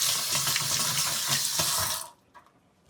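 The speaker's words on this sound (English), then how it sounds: "So wash my hands again" Running faucet water splashes steadily as hands are washed in a kitchen sink while cooking, a loud, continuous hiss for about two seconds that then cuts off sharply, followed by a few faint clicks.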